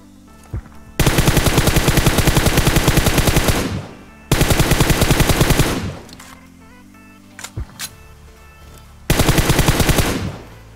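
Automatic gunfire sprayed from a prone position in PUBG Mobile: three long, loud bursts of rapid shots, each several seconds long, separated by short pauses with faint thuds.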